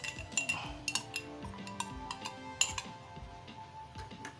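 A utensil stirs ground spice paste in an electric cooking pot set to low heat, giving scattered light clinks and scrapes against the pot. The sounds are close and fairly quiet, with no talking.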